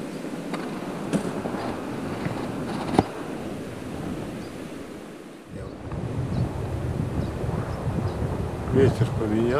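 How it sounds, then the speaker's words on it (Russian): Gusty, shifting wind in the mountains near a riverside camp, rushing and buffeting the microphone in a steady roar that swells again after a brief lull. "Ветер поменялся в очередной раз, он крутит очень прилично."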